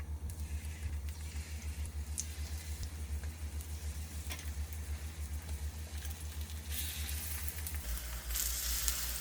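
Pancake batter frying in a well-oiled pan, a steady soft sizzle and crackle with faint patter, close up and without talk.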